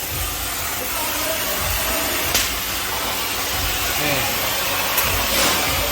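An Isuzu 6HK1 240 truck engine runs at a steady idle with a continuous low rumble and hiss, broken by a few faint clicks.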